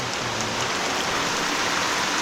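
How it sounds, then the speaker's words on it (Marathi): Steady, dense rain falling at a house under construction in Konkan, a continuous close hiss with no voices. "पाऊस चांगला पडतोय हा बघा"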